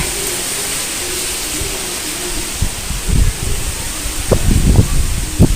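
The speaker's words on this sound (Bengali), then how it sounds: "এই যে প্রচণ্ড হাওয়া হচ্ছে গাছটা একদম সামনের দিকে এগোচ্ছে পিছোচ্ছে" Strong wind from a Kalbaishakhi (nor'wester) storm roars and hisses, shaking a tree back and forth, with gusts buffeting the microphone into heavy low rumbles that grow stronger toward the end.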